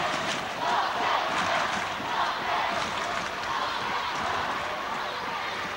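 A large ice hockey crowd roars and cheers continuously in a big reverberant rink during a Scottish Cup final, loud and sustained with no break.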